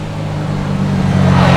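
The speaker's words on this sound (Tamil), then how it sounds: "பார்த்தீங்களா குட்டி பையனுங்க வண்டி ஓட்டிகிட்டு இருக்கானுங்கப்பா, லைசன்ஸே இல்லாமல்" A motor vehicle ridden by young boys passes close by, its low engine drone growing steadily louder and brighter over under two seconds, with no talking.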